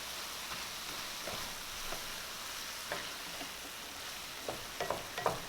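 Beef empanada filling cooking in a pan on medium-low heat, a soft continuous sizzle with scattered stirring taps that cluster toward the end, close and alone without talk.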